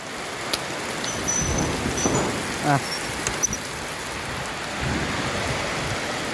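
Heavy rain during the rainy season in a rural Thai setting, a dense, steady hiss of downpour with scattered patters and small knocks, close and continuous throughout.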